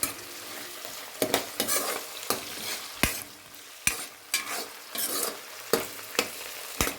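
Browned onions and coriander stirred as they fry in a pan for a curry, with a steady sizzle broken by repeated scraping strokes of a spoon about every half second to second, close and moderately loud, no voices.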